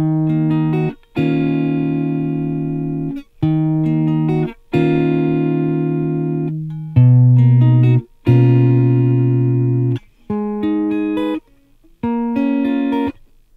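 Acoustic guitar playing the opening four measures of a song, a series of strummed chords in distinct bursts separated by short gaps, clear and close with no voice.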